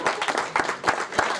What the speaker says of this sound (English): Give an applause for my sister